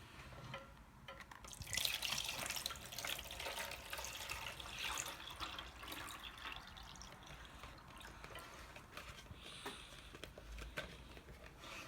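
Water is poured into a Shopkins toy turtle, giving a faint, continuous trickle and splash close by with scattered drips, steady throughout.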